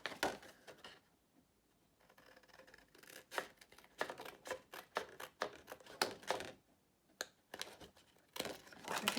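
Scissors snip and trim the edges of a folded paper card base, giving a run of close, crisp cuts and crinkles in uneven bursts with short quiet gaps.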